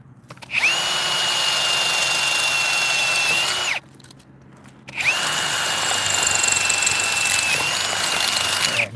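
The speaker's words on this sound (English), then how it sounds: "drill a couple of holes." A power drill bores holes in a rail during track maintenance, fixing a joint and gauge: two long, steady, whining runs separated by a brief pause, loud and close, with no voices.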